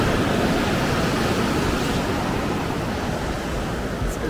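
Cold ocean surf on the Big Sur coast of California makes a steady, loud, close wash of broadband roar with no pause and no voices.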